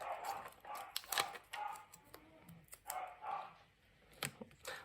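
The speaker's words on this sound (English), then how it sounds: "We've got some dogs outside" Several dogs bark outdoors, faint and distant, in short irregular bursts heard from inside a quiet room.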